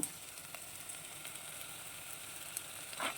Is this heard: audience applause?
no